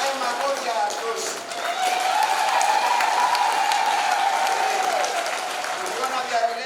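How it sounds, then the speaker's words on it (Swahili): Sustained applause from a church congregation at a first religious vows ceremony, steady and fairly loud clapping rolling on throughout, with some voices mixed into the crowd noise. "Hayo makofi hayatoshi"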